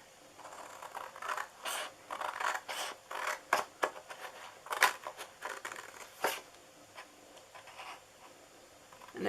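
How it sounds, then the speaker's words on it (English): Scissors or a blade cut through the cardstock of a DIY cookie box in a close series of irregular snips and scratchy slicing strokes, with brief pauses between cuts. "We're going to cut this 1/2 inch off all the way down to the second score mark down there."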